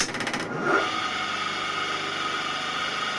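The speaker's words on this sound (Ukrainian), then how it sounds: "Спробуємо запустити." A 1.1 kW electric motor, running with no load and started with a lamp in place of its start capacitor, whirs up and settles into a steady mid-pitched hum with a faint vibration, running alone without any voices.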